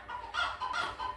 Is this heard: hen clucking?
yes